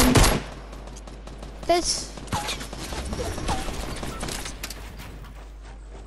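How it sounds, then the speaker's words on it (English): Gunfire in a Fortnite battle royale match: a loud opening burst followed by scattered, sharper shots at mid distance, with several teams fighting and someone talking briefly over the action. "He's already shooting"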